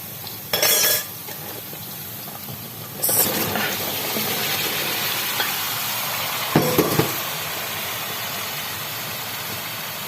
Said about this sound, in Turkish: Artık soğanımız qızıl rəngə çalır ve biz badımcanımızı elave edirik